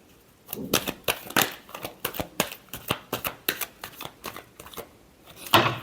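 Tarot cards shuffled by hand during a Capricorn reading: a close series of quick riffling, slapping bursts in an uneven rhythm, with no talking.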